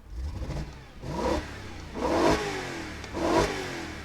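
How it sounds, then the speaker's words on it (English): BMW M3 E93 convertible with its V8 engine, revved three times in quick succession, each blip rising sharply then falling back toward idle, loud and close with no talking. "let me just give it a few more revs"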